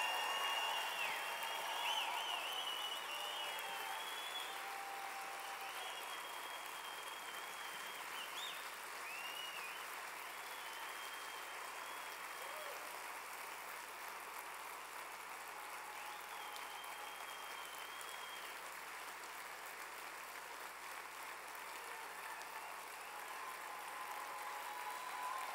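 An audience at a SendOutCards company event cheers and applauds its staff, a steady wash of clapping and crowd noise that stays even and somewhat distant throughout.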